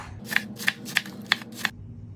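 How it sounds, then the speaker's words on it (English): Knife chopping through lettuce on a cutting board, five crisp evenly spaced cuts, close and clear, then a brief pause. "I'm going to start cutting the lettuce"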